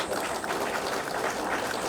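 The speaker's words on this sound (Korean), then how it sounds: "이분들께 박수를 한번 해주시기 바랍니다." Crowd applause at an outdoor statue unveiling ceremony in Chilgok, South Korea, a steady dense wash of many hands clapping throughout, moderately loud with no pauses.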